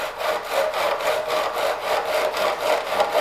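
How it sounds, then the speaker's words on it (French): A hand saw cuts through synthetic PVC skirting board held in a miter box for a 45-degree corner cut, giving steady rhythmic back-and-forth rasping strokes, close and even, with no talking. "boîte à coupe, une scie, et on va couper délicatement"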